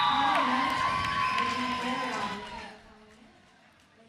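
A crowd at a roller derby bout cheers and whoops loudly for about two and a half seconds, then drops away to near quiet, with a sharp sound at the very end.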